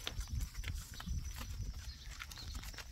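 A horse walks on a dirt road at a Finnish riding outing, its unshod hooves giving soft, uneven clip-clop steps close by against steady outdoor background noise.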